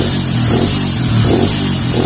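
A Kawasaki KLX 150 motorcycle engine with a carburetor revs loudly and close under throttle, rising and falling in a few short blips over a steady rumbling idle.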